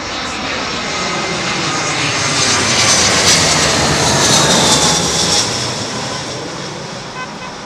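A jet airliner passes low overhead on arrival to runway 27L at London Heathrow, a loud, steady broadband roar that swells to a peak mid-pass and then fades slightly.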